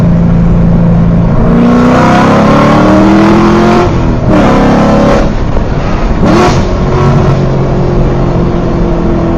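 A loud C7 Corvette Stingray exhaust in track mode revs hard again and again, the engine note climbing and dropping in aggressive bursts, close by.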